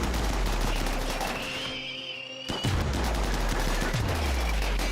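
Colonists in the colony-building game Rimworld open fire: loud, rapid gunshots crackle almost continuously, with a short lull in the middle before the shooting resumes.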